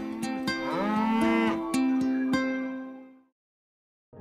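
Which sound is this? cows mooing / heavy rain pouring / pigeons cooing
cows mooing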